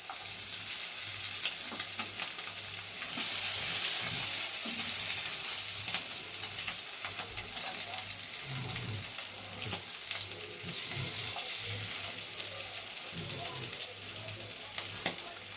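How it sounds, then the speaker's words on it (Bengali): Rohu fish kebabs sizzle in a pan, a close, steady frying hiss that keeps going throughout, with occasional knocks and scrapes as the pieces are turned and a low hum beneath. "এবার একটু আঁচটা বাড়িয়ে দিলাম, এগুলো একটা পিঠ একটু ভাজা হোক, তারপর আমি উল্টে দেব।"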